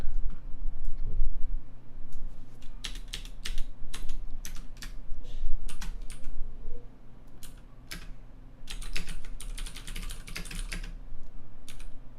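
Someone types quickly on a computer keyboard while writing a fantasy story, with bursts of rapid keystrokes separated by short pauses over a steady low room hum.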